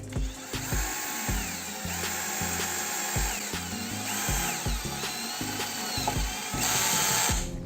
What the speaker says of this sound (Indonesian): sekarang kita coba untuk melakukan pemasangan baut roofing pada kanal C baja ringan